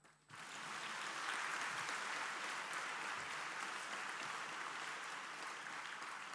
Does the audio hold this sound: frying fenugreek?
no